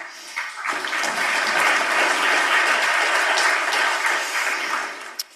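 Applause from a conference audience at a talk on open infrastructure for software, a steady round of clapping that swells quickly, holds, then fades near the end.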